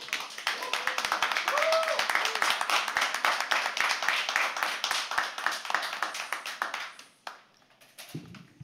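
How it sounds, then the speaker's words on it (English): Audience clapping at a live poetry open mic, dense and steady for about seven seconds before dying away to scattered claps, with a brief voice near the end. "Can you please have another round of applause?"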